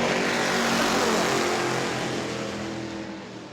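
Race cars restarting at New Smyrna Speedway roar loudly past together, a dense engine drone that is strongest at first and then fades slightly as the pack moves away.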